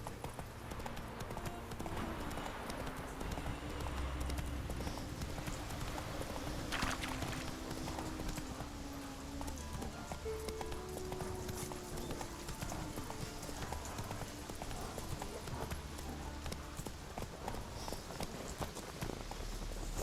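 A horse walks steadily with continuous clip-clop hoofbeats on the ground while being ridden through Skellige in The Witcher 3, the hooves close and even under a layer of ambient game music and sound.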